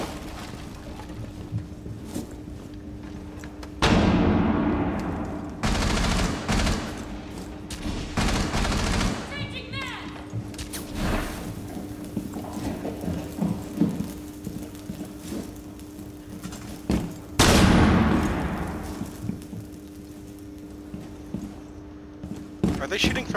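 Gunfire in the tactical shooter Rainbow Six Siege, several loud bursts of shots inside a building, heard between stretches of quieter footsteps and movement noise, with players talking over it.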